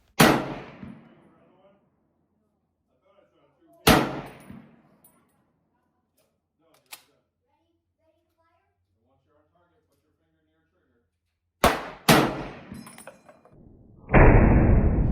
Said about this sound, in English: The real reason for getting the M1 Garand is the ping.